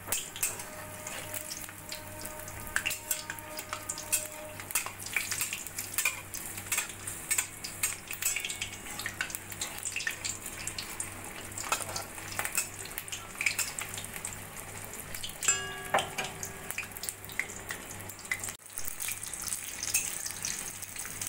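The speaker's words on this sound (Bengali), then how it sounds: "একইভাবে দুটো দুটো করে চাল কুমড়োর পিস দিয়ে আমি চাল কুমড়োর পকোড়াগুলো ভেজে নেব" Ash gourd pakoras frying in oil over a low flame, a steady close hiss and crackle of bubbling oil with occasional stirring clatter and scrapes.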